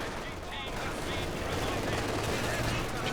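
A mortar barrage and gunfire from the Company of Heroes 2 strategy game form a dense, continuous rumble of explosions and shots, loud and sustained throughout.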